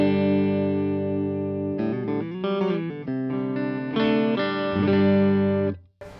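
A Fender Vintera electric guitar on its neck pickup plays clean, warm chords and single notes, ringing sustained and close with a few changes, then cutting off sharply near the end.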